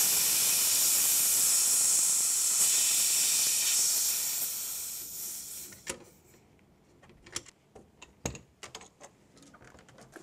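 A Ralston quick-test adapter self-vents its pressure in a steady, close hiss that holds for about five seconds and then fades away, leaving scattered small clicks and taps.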